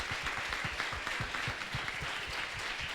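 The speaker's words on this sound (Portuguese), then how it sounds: "Você pode, antes de qualquer coisa, aplaudir ao Senhor, em gratidão a Ele" A church congregation applauds together, dense rhythmic clapping with a steady pulse that carries on without a break, close and fairly loud, with little talk over it.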